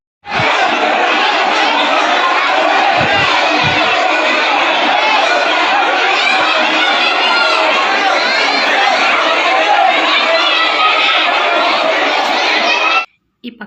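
A dense crowd at a function lunch chatters and shouts nonstop, with mingled voices and bits of laughter at close range throughout.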